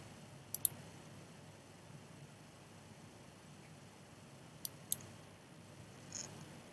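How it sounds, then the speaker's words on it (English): A computer mouse clicks twice in quick pairs, sharp faint taps separated by several seconds of quiet hiss. "And then you click on sign in."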